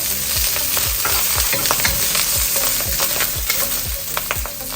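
Green onions and Chinese sausage stir-fried in a hot pan for a tofu and mushroom dish, with a steady loud sizzle and regular rhythmic scrapes of the spatula, about two per second, and no talk.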